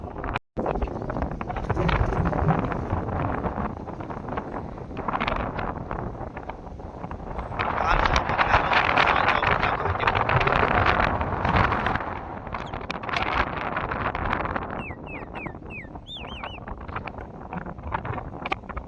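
Steady wind buffets the microphone in a village, rising into a stronger gust midway and then easing off; no voices are heard.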